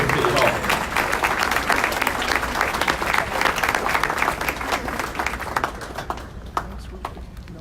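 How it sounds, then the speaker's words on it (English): An audience at a City Hall community breakfast honoring Latino leadership claps steadily, a loud and dense round of applause that holds for several seconds and thins slightly at the end, with voices murmuring underneath. "One more round of applause for our Latino leadership here at City Hall."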